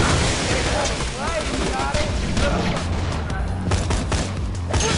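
Rapid gunfire crackles through a Borderlands 2 firefight, dense bursts of shots and impacts layered under a loud, busy game mix with a voice talking over the action.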